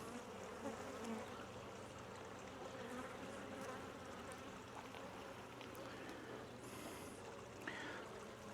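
Guard honey bees hum around an open hive full of honey and pollen frames, a close, continuous buzzing drone that stays even throughout without talk.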